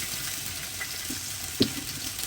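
Food sizzles steadily on a grill pan in a home kitchen, a soft continuous frying hiss with one brief knock partway through and no talking.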